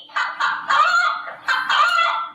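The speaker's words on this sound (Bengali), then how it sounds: "মুরগিকে ইংরেজিতে হেন" A hen clucks and squawks in a run of five or six loud, raspy calls in close succession, with no voices around it.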